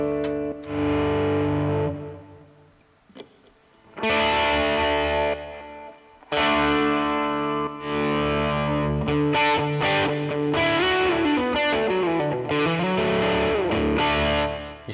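Distorted electric guitar through a NUX Amp Academy Stomp digital amp modeler plays sustained chords and bending lead notes, with a brief pause and a smooth fade between tones, no voices.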